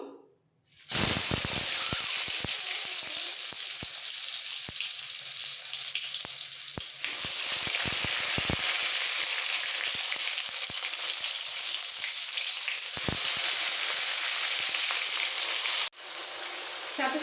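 Chopped tomatoes frying in hot oil with chili and fennel, giving a loud, steady sizzle and hiss close by that runs almost unbroken, with a few brief clinks and knocks on top.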